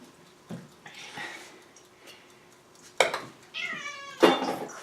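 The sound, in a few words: cat meowing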